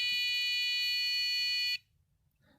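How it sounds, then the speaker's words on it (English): A homemade mug temperature monitor sounds a shrill, steady electronic alarm tone, loud and continuous for nearly two seconds before stopping abruptly, leaving quiet room noise. "if the now temperature falls to below the new alarm, it goes off again"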